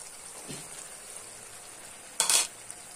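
Boiled peas being mixed into ghugni masala in a pan, a soft steady sizzle with one light stir followed by a louder, brief scraping burst.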